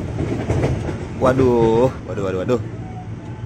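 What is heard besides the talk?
KRL commuter electric train at Lenteng Agung station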